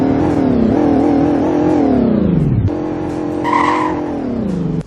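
A pickup truck engine in a Roblox game revs hard and close, climbing in pitch, dropping briefly at a gear change, then climbing again.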